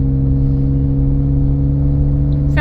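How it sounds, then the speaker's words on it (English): Low, steady engine drone and exhaust hum from a 2014 Ford Edge with a 3.5-liter engine pulling uphill, constant and fairly loud throughout, with no voices. "Sounds like maybe a little bit louder exhaust, but it's not really loud"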